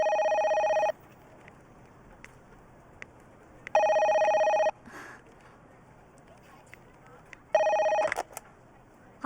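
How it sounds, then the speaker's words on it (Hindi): A telephone rings in three evenly spaced bursts of about a second each, with a bright warbling tone and quieter background sound in between, indoors in a Bollywood film scene. "हाँ राज, फोन है।"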